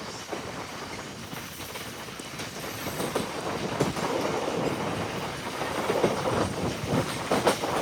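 The Bhimavaram–Vijayawada MEMU 67282 runs fast on the tracks at night, its close, rhythmic clickety-clack of wheels over rail joints rising in loudness and intensity toward the end.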